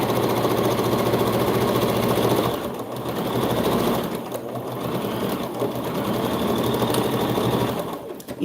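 A sewing machine runs a straight stitch through satin scrap fabric for a reversible bonnet, its close, fast rhythmic hum continuing with brief slowdowns and dips before resuming.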